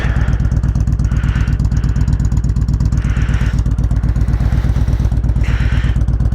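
A Kawasaki Vulcan Voyager motorcycle with new Sharkroad mufflers idles and revs nearby with a deep, steady rumble and rapid pulsing exhaust, swelling in a few throaty bursts.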